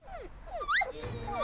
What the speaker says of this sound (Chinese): 又养了两条小狗。